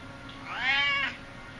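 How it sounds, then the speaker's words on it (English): A cat gives one close, clear meow of about half a second that rises and falls, set against a quiet indoor background. "He's just going to meow from side to side."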